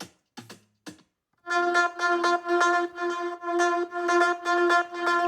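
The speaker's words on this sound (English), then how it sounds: "the melody synth already comes in at the first part" A bright Afro house synth melody, made in FL Studio, enters after a few short plucked notes and a pause, then loops steadily with sustained chords pulsing in regular phrases.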